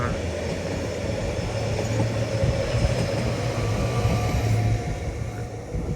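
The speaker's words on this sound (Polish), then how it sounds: "Odjeżdża skład y, Leo Express." A Leo Express train pulls out of Přerov station, a steady close rumble of wheels and engine with a low hum running throughout, no talk over it.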